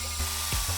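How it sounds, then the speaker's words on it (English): A power drill bores a small hole at the end of a crack in a plastic bumper of a 2017 Corvette C7, a brief, faint, steady whir with slight rises in pitch. "take a drill a small hole into it"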